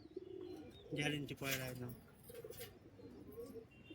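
Low, soft giribaz pigeon coos repeat in short phrases, close by, with a bird chirp and some background noise around them.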